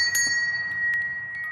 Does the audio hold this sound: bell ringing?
yes